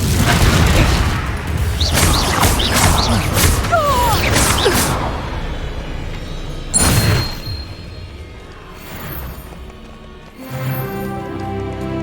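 Spell blasts from Hogwarts Legacy, including the Confringo explosion charm, go off in a rapid series of loud booms and whooshes during combat, with a big burst near seven seconds and a final thump near the end.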